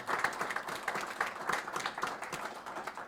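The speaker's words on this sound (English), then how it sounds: "Round of applause, I think," Fellow Rotarians give a round of applause, a fairly quiet, distant patter of scattered hand claps from a modest gathering, uneven and pulsing rather than a dense roar.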